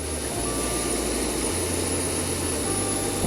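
Jet engines of a Zibo 737-900 start up in the X-Plane 11 flight sim, a steady loud whine and rumble holding constant with low tonal hum beneath.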